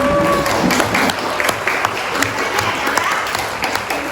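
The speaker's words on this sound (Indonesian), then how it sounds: "tepuk tangan buat kelompok Al-Malik" A classroom group gives applause to a student discussion group, a fairly loud, uneven burst of hand clapping lasting a few seconds, with some individual claps standing out.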